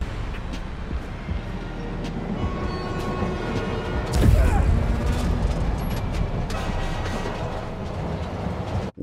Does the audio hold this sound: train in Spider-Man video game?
yes